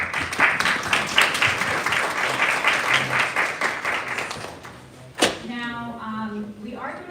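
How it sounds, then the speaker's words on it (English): Audience applause fills a conference room at a women's leadership event, a steady dense patter of clapping for about five seconds, then fading out as a sharp knock and a short, faint voice follow. "I'd love to give everyone in this room a round of applause for the meeting."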